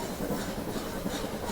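Continuous rumbling rattle of the Ooty toy train running along rails, heard from on board, steady and droning, with no voices.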